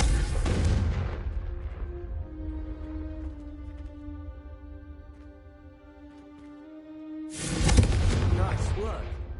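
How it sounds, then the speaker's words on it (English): Confringo fire spells from a Hogwarts Legacy wand burst against candelabras, broadband blasts opening and closing the stretch around a sustained ringing, humming tone, loud and close with speech nearby. "Confringo! Have a go at those candelabras."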